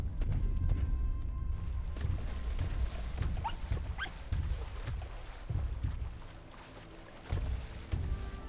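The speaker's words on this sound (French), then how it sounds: "Fait partie de la famille des chiens." A dog-like canid creature in the video game RiME gives a few faint whimpers over low, rumbling thumps and a steady ambient wash.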